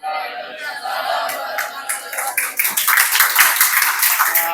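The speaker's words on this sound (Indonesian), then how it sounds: "Sekali lagi beri tepuk tangan untuk kelompok 3." Classroom students applauding a group presentation, dense clapping that swells and grows louder over a few seconds, mixed with cheering and crowd chatter.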